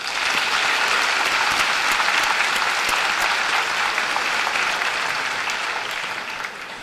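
A graduation crowd at the 2017 Cumberland County High School ceremony claps steadily for its graduating class, a dense, even wash of many hands sustained throughout before easing slightly at the end.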